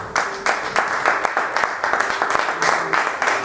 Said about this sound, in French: Est-ce qu'on peut acclamer pour Jésus-Christ?